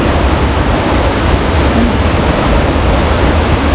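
Niyaya Falls pours in a steady, dense roar of falling water, loud and close, with no voices over it.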